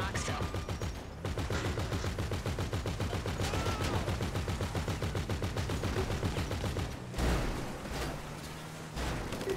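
Sustained automatic gunfire in GTA V rattles in rapid, even bursts for several seconds, pauses briefly, then resumes, with the shots loud and close.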